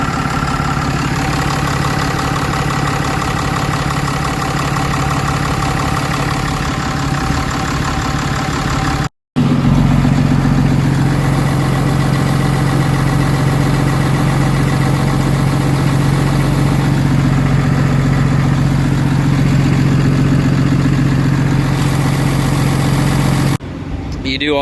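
A 2018 Cummins diesel engine idles steadily at close range, a loud continuous low rumble with mechanical hum, briefly cut off near the middle then resuming, with someone talking over it.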